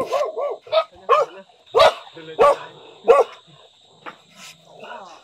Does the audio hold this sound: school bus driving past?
no